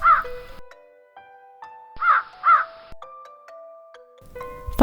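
Several loud, close crow caws in repeated pairs, with steady harmonic tones sounding between the calls.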